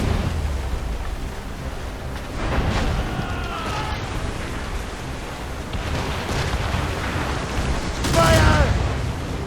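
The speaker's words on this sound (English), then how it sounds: "They're firing, sir!" Naval cannon fire from enemy sailing ships in an Assassin's Creed Rogue sea battle, heavy booming volleys with surf and crashing debris, under shouted crew voices.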